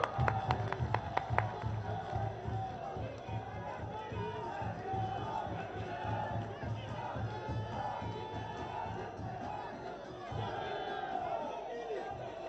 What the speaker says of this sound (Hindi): तालियों के द्वारा मित्रों।